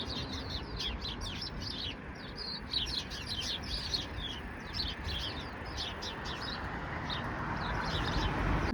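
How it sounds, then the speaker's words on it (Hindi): Small birds chirp in a garden's trees, giving many quick, high, overlapping tweets throughout over a steady, rushing background hiss. "तो आप चिड़ियों का चहचहाना देखें कितना प्यारा है"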